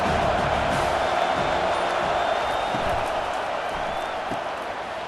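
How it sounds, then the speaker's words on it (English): A football stadium crowd roars on third down to urge on the defense, a loud, dense, sustained wall of cheering and whistling that eases slightly toward the end. "this crowd will blow out a vocal cord to help this defense"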